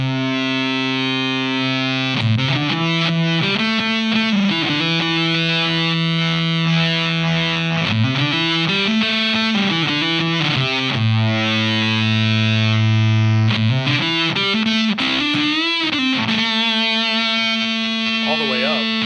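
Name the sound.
electric guitar through Seeker Lineage Supa Fuzz pedal, filter knob up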